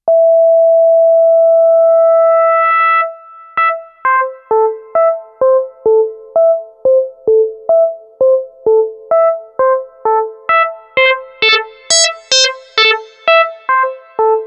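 A pure sine tone holds, then a rapid sequence of short plucked FM synth notes follows, growing brighter and buzzier with added harmonics as one operator modulates another's pitch at audio rate.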